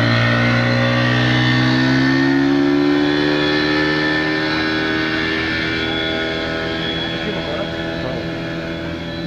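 A 40-horsepower outboard boat motor drones loud and close, its pitch climbing as it revs, then holding a strong steady whine for the whole stretch.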